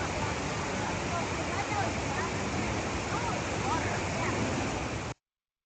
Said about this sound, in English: The sound you heard in the background wasn't the plane, it's the waterfall of these two memorials